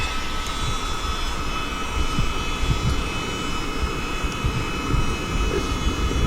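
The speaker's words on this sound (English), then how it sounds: "So got a little pump for my Neo Air. I'm going to try it out" A small electric pump inflates a NeoAir sleeping pad at a winter tarp camp, giving a steady, close, whirring drone with a constant motor tone and no talk.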